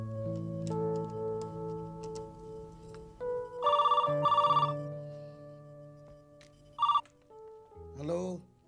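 A telephone rings in an office in two loud bursts of electronic trilling, then one shorter ring, over background music and ambient room sound.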